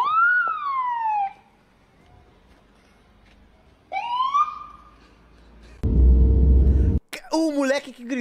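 A police siren wails in rising and falling sweeps, two loud bursts separated by quiet, followed by a loud low rumble and a short sharp yelp.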